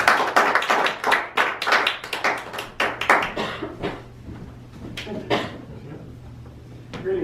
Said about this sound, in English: let's please give a warm round of applause to Kyler